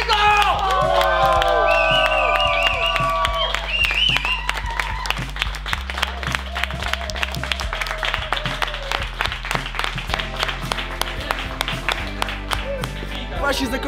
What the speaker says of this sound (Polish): Wielkie brawa dla Michała Michalskiego!